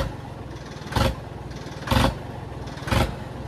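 A Ford tractor engine runs at a steady low idle, with three louder bursts at roughly one-second intervals, close and alone without speech.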